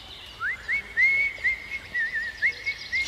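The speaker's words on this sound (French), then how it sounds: "Clé de sol siffle une autre chanson." Someone whistles a bright, lilting tune of short rising and sliding notes in a quick, bouncy rhythm in a park, close and clear against a quiet background.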